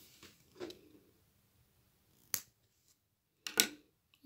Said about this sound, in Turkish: Ve ipimi buradan kesiyorum.